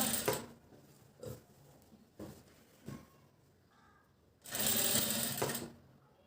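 A sewing machine fitted with a one-side foot stitches piping onto a blouse neckline in several short rattling bursts, followed by a longer continuous run, each burst up close with quiet gaps between.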